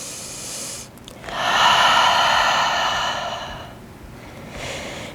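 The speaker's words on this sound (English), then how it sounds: "Take a cleansing exhale whenever you need" A long, forceful breath out during a power yoga session, a loud close airy hiss lasting a few seconds, followed later by a softer breath.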